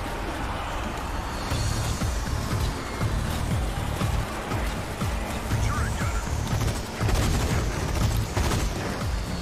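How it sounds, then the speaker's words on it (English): Rapid bursts of tank turret gunfire in the Zombie Army 4 video game, a dense, loud barrage of shots rattling on continuously for several seconds with heavy low-end thumps. "I got fucking shot by this stupid turret gunner"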